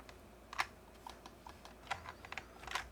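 Faint keystrokes and spacebar taps come from a computer keyboard during AutoCAD drafting, sparse and quiet over low background hum.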